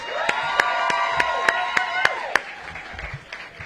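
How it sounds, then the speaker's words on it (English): At a grand opening celebration for a spice shop, sharp rhythmic claps land evenly about three times a second beneath a sustained cheering voice, then give way to scattered background crowd noise. "Let's give her another round of applause."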